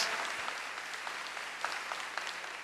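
A congregation applauds steadily during a Catholic sermon by a monsignor: a continuous, even patter of many hands heard at a distance, with no speech over it.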